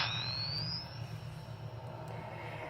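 Startup effect from a homemade Ghostbusters proton pack prop: a thin rising electronic whine sweeps upward over about a second above a steady low hum, then settles into a quiet, steady drone.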